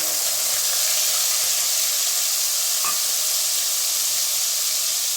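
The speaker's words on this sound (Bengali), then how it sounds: "শুধু পেঁয়াজ বাটাটা দিয়ে দেব।" Onion paste sizzles in a little hot oil in a wok over low heat, a steady, loud, close hiss with one faint clink partway through and no talk.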